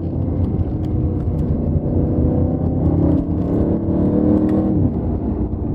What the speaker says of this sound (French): on a vraiment les grondements, un peu un type tonnerre du V8